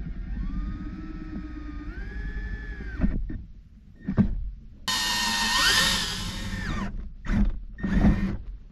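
An electric drill bores a hole through the interior trim of a 2003-2014 GM truck or SUV to pass a wire, the motor whining steadily with pitch shifts as it bites, then stopping briefly between short loud bursts, close up.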